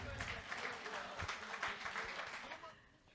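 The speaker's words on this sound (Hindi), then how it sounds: "बहुत जोरदार तालियां हो जाए इनके लिए।" Brief applause from an audience after a live Hindi song performance at a tribute concert, dense clapping that fades out at the end.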